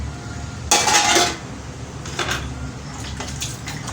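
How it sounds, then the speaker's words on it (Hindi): Dishes and cutlery clatter in a sink, with a loud burst of clanking pots followed by lighter clinks and scraping, no talking. "तो मैं जल्दी जल्दी से बर्तन धो लेती हूँ"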